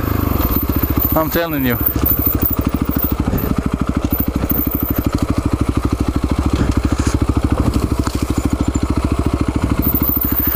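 Light two-stroke trail motorcycle riding on steep technical trail, its engine buzzing steadily and loud throughout with rapid rhythmic pulsing, rising briefly in pitch early on, while someone talks over it.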